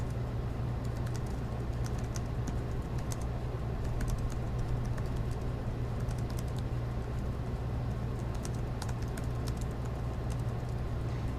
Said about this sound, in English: as I'm actually typing.